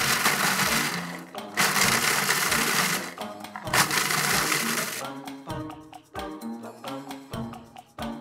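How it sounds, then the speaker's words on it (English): A food processor grinds dried homemade bread into crumbs with a loud whirring motor, first in short pulses broken by brief pauses and then in longer continuous runs, close up with little else audible. "add them to the food processor in small batches. Pulse them a few times to get things going and let it run."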